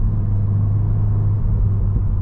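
A Volkswagen Golf R Mk8.5 Black Edition engine hums with a steady low drone and rumble, heard from close up inside the car on the road, with no talking.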